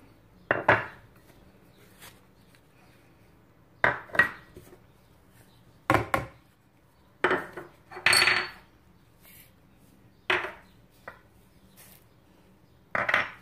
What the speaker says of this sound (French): je mélange le tout